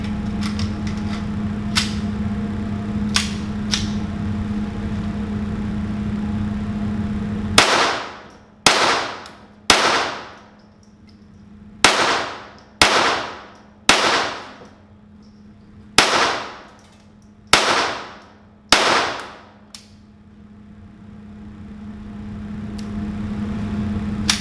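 A Ruger Standard Mark I .22 Long Rifle pistol firing ten loud, sharp shots outdoors at a range, spaced about a second apart at a steady unhurried pace, each crack followed by a brief ringing decay over a low background hum.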